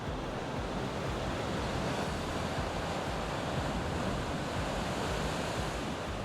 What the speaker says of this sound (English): to watch the arch being pounded by the waves and hear the roar of the thunder cave as the water rushes in